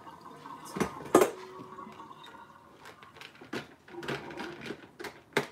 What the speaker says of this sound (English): Putting the rice cooker back together.